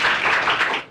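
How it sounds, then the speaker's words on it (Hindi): A brief one-second burst of dense audience clapping at a school prize distribution, steady and close, tapering off at the very end. "जोरदार तालियां इनके लिए"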